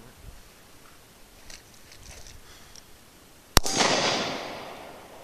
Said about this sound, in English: So I'm going to try point shooting again, but I'm going to aim like up in here.